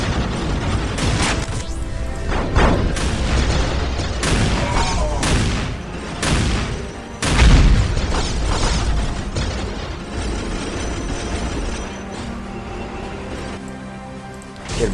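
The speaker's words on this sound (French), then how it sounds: "Faites un tir de missile!" Missile strike explosions in the Warhammer 40K video game, a dense loud barrage of booms and blasts rolling over each other for the whole stretch, with a heavy impact near the middle.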